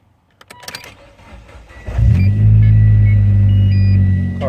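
A Mitsubishi Lancer Ralliart starts up: a whirring crank follows some clicks, then the engine catches and settles into a loud, steady low idle that holds to the end.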